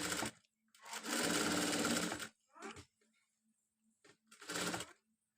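A sewing machine stitches a cotton saree blouse in two close, steady bursts, a long run of about a second and a shorter one later, with brief quiet gaps and a faint short run between.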